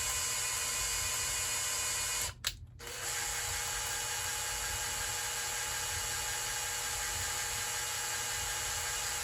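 Kohler K321 engine valves being lapped by hand with coarse grinding compound, a continuous faint gritty whirring scrape that breaks off briefly partway through, then resumes steadily.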